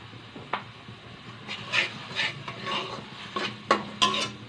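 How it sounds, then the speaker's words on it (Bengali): A spoon scrapes and stirs a salted mixture with dry chilli powder in a pan, giving irregular rasping strokes and soft clatter at close range, with no talk. "এবার এটাকে ভালো করে কষাবো।"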